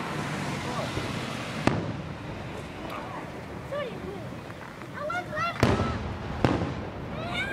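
Distant Fourth of July fireworks rumble and pop continuously, with occasional sharper bangs and rising whistles scattered through the steady roar.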